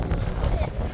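Strong wind buffets the open deck of the Genting Dream cruise ship, a steady low rumbling roar that fills the whole second, with people speaking close by.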